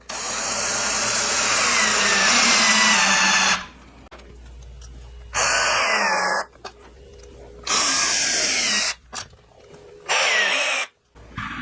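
A power drill bores into 1.5-inch thick wood for a Christmas tree farm sign, loud whirring bursts with abrupt stops and restarts, separated by short quiet pauses.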